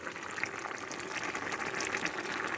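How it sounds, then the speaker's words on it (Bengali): Cooked turnip and fish curry is poured out of the pot, making a quiet, continuous wet, bubbling slosh with no pauses. "এবার আমি তরকারি ঢেলে নেবো"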